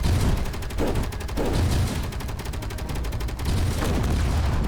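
Rapid automatic gunfire in the space-building video game Space Engineers, dense bursts of repeated shots with a few heavier booms, loud and continuous.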